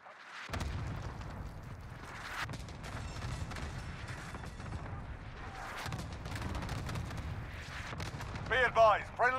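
A cluster airstrike in a shooter video game sets off repeated rumbling explosions and bursts, with dense low booms spread across the stretch and a sharper flurry of pops near the end.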